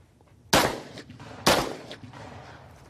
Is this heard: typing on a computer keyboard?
no